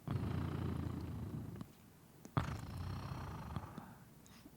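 A person imitates a cat's purr with a low, rumbling throaty drone, loud and close, running about a second and a half, pausing briefly, then resuming after a soft sharp click and carrying on to the end.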